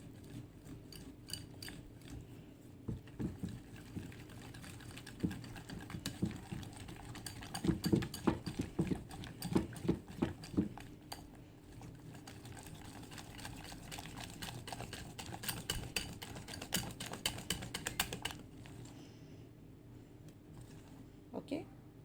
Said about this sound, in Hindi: मैं हैंड विस्कर का यूज़ कर रही हूँ